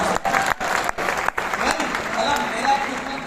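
Audience applause fills a hall at a motivational talk, steady clapping that runs throughout with a few brief dips, close and fairly loud.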